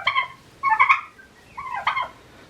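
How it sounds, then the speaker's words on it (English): Old farmyard turkeys on a winter homestead gobble in two or three rapid, warbling bursts, close and loud with short pauses between calls. "Old turkeys."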